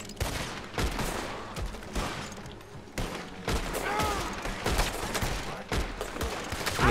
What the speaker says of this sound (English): That's my fault for using a shotgun.